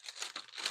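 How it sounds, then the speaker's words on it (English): Crisp craft paper crumples and crinkles in hand during paper crafting, a brief close rustling burst with a few sharper crackles. "crispy paper."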